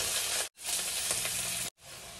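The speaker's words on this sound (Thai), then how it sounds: "เราจะใส่น้ำมะขามไปนะจ๊ะ" Tamarind juice poured into a hot pan of stir-fried rice vermicelli with coconut milk, giving a loud, steady close-up sizzle that cuts off sharply twice, then resumes.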